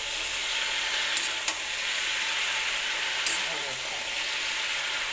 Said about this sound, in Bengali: এবার নাড়াচাড়া করতে হবে পালং শাকটাকে দিয়ে।